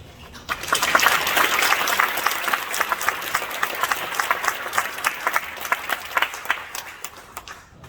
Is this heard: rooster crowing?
no